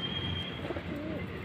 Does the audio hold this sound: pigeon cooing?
yes